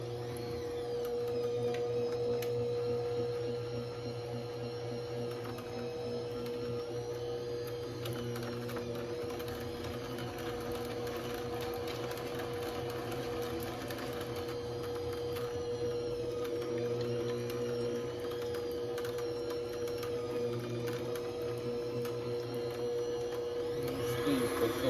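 Steady mechanical whir and rattle of an electric mixer beating lemon cream cheese pound cake batter, continuous and fairly close, with slight shifts in pitch and scraping clicks along the way.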